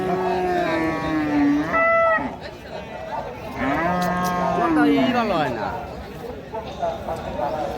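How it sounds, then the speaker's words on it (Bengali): Cattle low repeatedly in long, drawn-out moos at a cattle market, overlapping with a busy crowd murmur and people talking nearby. "কত চমৎকার চমৎকার গরু"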